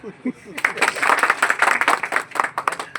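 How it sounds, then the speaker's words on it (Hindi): A group applauds a firefighter trainee who has broken a CO2 extinguisher seal during training, a brief burst of close clapping starting after a moment of quiet and running to the end, with voices mixed in. "तालियां।"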